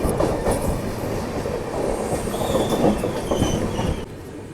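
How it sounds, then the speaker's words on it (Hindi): Samarsata Express passenger train rolling slowly, with rumbling wheels, rhythmic clickety-clack and light squeals, heard close from on board before the noise drops near the end. "अभी ट्रेन धीमी धीमी रफ्तार में दोस्तों निकल चुकी है।"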